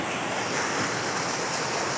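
Water rushes powerfully at Talon Pari Falls, a dense, loud, unbroken roar of falling water filling the whole moment with no voices.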